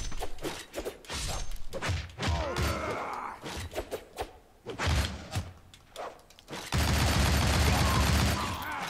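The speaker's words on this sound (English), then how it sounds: "Shots to the head." Gunfire from the side-scrolling action game Shank rings out in sharp bursts, with a dense rapid volley near the end, mixed with game music, effects and a player talking over it.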